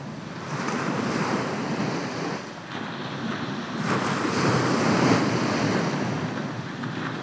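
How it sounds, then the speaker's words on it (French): Steady outdoor wind rushing over the microphone with waves washing in the background, a continuous broadband roar that swells gently around the middle; no voices. "je sens la brise du vent très doux sur ma joue"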